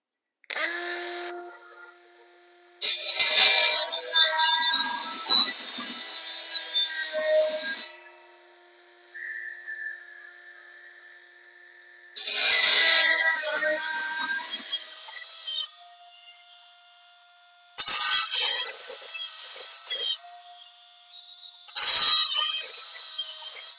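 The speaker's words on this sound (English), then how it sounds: "It's quite noisy, but I think this Dremel might do the trick." A Dremel rotary tool grinding metal on a Ferguson TEA20 tractor's cordwood saw fitting whines and grinds in several loud bursts of a few seconds each, with quieter pauses where the motor hums and spins down.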